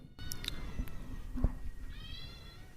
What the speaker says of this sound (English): I don't know if you are going to be able to hear that, but that was my cat.